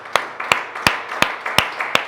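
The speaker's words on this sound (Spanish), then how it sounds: "Dale un fuerte aplauso a Cristo Jesús." Sharp, evenly spaced claps ring out about three times per second inside a church, a congregation clapping in unison over a faint background wash.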